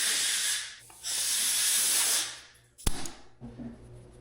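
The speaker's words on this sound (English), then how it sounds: "it can be done with an aerosol can" An aerosol spray can hissing in two long bursts, close and steady, followed by a sharp clatter and a few faint knocks.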